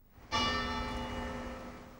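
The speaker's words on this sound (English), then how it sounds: "The bell, too, would have been a familiar sound, for it also came from the old Brook Street Chapel" A single bell at Sacred Heart Church in Omagh, once hung in the old Brook Street Chapel, struck once with a clear metallic clang whose bright ringing overtones hang and slowly fade, heard alone.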